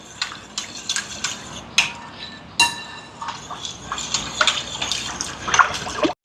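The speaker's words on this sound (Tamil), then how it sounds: "அதை எடுத்து இதோட சேர்ப்பேன் ஜோக்கட்டோட. சேர்த்து நல்லா கலந்து விடுவோம்." A jelly mixture is poured into yoghurt and stirred in a glass bowl, with a spoon clinking against the glass in irregular bright taps amid soft liquid swishing, close by and with no talking.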